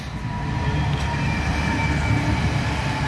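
A train passes nearby, giving a continuous rumbling roar with rattling rail noise that stays fairly loud and steady throughout, with no voices.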